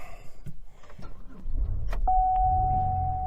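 Inside a Chevrolet Uplander, keys rattle and the starter cranks, then the engine catches into a low steady idle with a thin electronic tone running over it, recorded close up with no talking.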